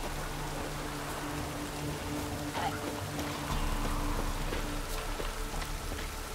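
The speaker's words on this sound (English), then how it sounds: "Looks like rain." Steady broadband rain hiss with scattered droplet patter in the video game The Witcher 3: Wild Hunt, continuous and fairly loud, with a faint voice briefly underneath.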